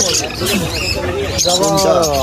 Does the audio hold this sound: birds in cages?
yes